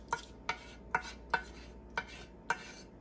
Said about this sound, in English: I'll just finish stirring this up again.